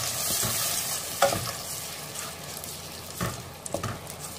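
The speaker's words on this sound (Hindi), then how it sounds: "अब हम इस मसाले को तब तक पकने देंगे जब ये ऑयल छोड़ने लगेगा, तब तक पकाएंगे।" Spice masala of salt, red chilli and turmeric frying in oil in a pan for palak paneer, a steady close sizzle broken by a few louder scraping stirs of the spoon.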